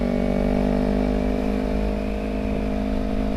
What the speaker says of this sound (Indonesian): Apa lebih enak pakai knalpot standar ya kan, nggak berisik, apa knalpot racing kayak gini?